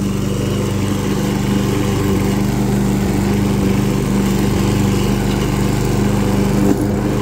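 Lawn mower cutting grass in a quick neighborhood yard job, a loud steady engine drone with a constant low rumble throughout and no talk.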